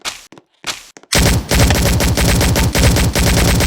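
Gunfire from the video game Recoil: two short bursts come first, then sustained rapid automatic fire, loud and close, with shots in a fast, even rhythm.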